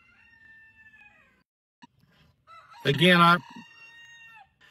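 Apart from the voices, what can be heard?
rooster crowing in background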